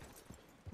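A horse's hooves clip-clop in the video game Red Dead Redemption 2: a few soft, dull thuds spaced apart, quiet and somewhat distant over a faint background hiss.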